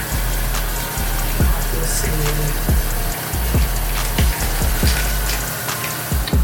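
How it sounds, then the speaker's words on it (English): Running water while rinsing the mouth at a bathroom sink during a night skincare routine: a continuous steady flow broken by regular small splashes and clicks, close and fairly loud. "Yeah, and you rinse your mouth."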